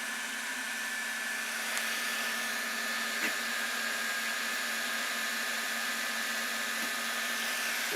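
Sovol SV08 3D printer's cooling fan gives a steady, fairly quiet whir with a faint high whine, continuous and alone, with a couple of small clicks.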